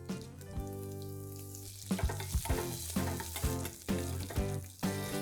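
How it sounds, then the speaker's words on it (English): Coriander, fennel and carom seeds with curry leaves crackle in hot oil, a steady near sizzle with sharp pops and stirring clatter building toward the end; steady music-like tones run underneath. "Once the oil is hot, I'm going to add some coriander seeds, fennel seeds and some ajwain seeds or carom seeds."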